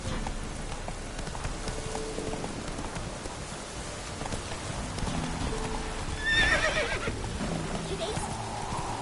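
Roach, a horse in the video game Witcher 3, clip-clops along amid rain and ambient game sound, with a sharp neigh near the middle; no one speaks.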